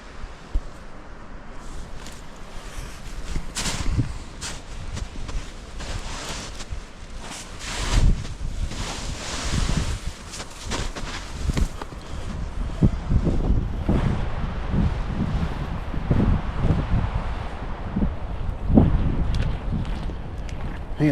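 Wind gusts roar and buffet the microphone in snowy backcountry mountains during solo winter camping, a loud, continuous rush with rustling swells and occasional thumps, no voices.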